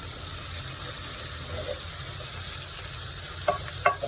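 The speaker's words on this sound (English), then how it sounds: "Cabbage here, just kind of give it a good stir here." Shredded cabbage sizzling and softening in a hot pan, with a steady frying hiss, a spoon scraping and stirring through it, and a couple of louder knocks near the end.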